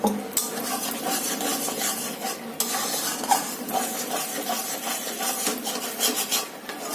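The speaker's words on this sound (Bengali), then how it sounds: "আর এইভাবে অনবরত নাড়তে থাকবো।" Thickening milk for rabri being stirred continuously in a pan, a close, even rasping scrape of the spoon across the bottom with a light sizzle, no speech.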